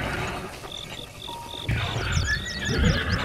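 A game horse from Zelda lets out a shrill, wavering whinny over a steady chorus of crickets and insects, with soft hoof clops underneath.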